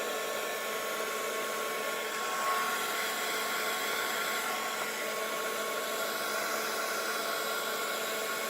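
A heat gun blows hot air to warm glue so a layer of a handmade birthday card can be peeled off, a steady close whoosh that runs continuously without talk.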